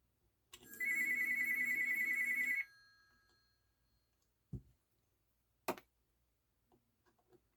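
Electronic home telephone rings in a single sustained burst with a steady warbling tone, followed by quiet room sounds with a couple of sharp clicks and knocks.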